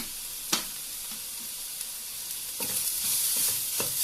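Chopped onions sauté in a pan with a little salt for a tomato curry, giving a steady, close sizzling hiss broken by a few sharp stirring scrapes, with no voices.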